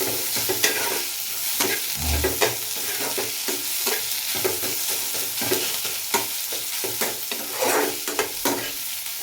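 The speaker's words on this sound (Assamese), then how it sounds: "আদা নহৰু ভাজি আছোঁ এতিয়া।" Ginger and garlic fry with a soft, steady sizzle, broken by frequent clicks and scrapes of a spoon stirring the pan.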